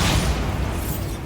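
Booming magical explosion from the Bombarda spell in Hogwarts Legacy, a single deep, rumbling blast that fills the moment and decays quickly.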